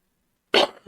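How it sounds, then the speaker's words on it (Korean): A single close, harsh cough bursts out after a moment of silence, followed by a short, softer catch of breath. "자꾸 기침이라서 죄송합니다"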